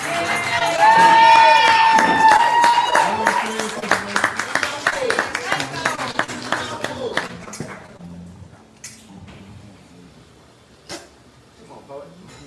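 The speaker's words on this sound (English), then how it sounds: "Keep your applause going for the next poet." Cheering, whistles and clapping from a poetry slam audience swell loudly at first, then thin into scattered claps and a few shouts as the crowd settles.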